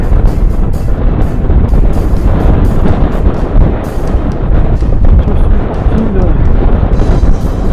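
Strong wind buffets the microphone on an open hiking trail in the Auvergne highlands, with constant low rumbling and roaring gusts, loud and unbroken throughout.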